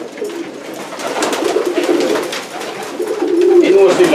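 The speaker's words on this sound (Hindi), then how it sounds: "ते फैंसी कबूतर" Fancy pigeons cooing nearby, soft low throaty calls repeating over steady outdoor background noise.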